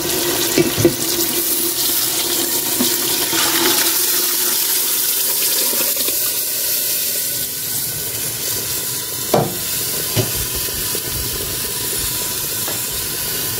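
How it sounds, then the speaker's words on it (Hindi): Mutton stock (yakhni) is poured into a cooking pot for mutton pulao. A steady watery rush and hiss runs throughout, with a few light clanks near the end. "जखनी अब इसमें डाल दूंगी।"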